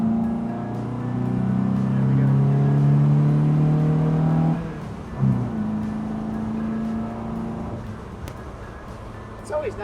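A Mercedes 190SLR engine speeds along, a loud steady drone that dips mid-pass and then settles into a lower hum. Road and wind noise sit underneath.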